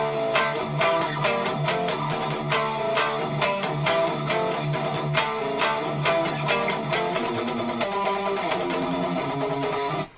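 Electric guitar plays the full riff phrase with fast alternate picking, a steady stream of sharp, evenly spaced distorted notes over a dense, loud backing, heard alone and ending abruptly.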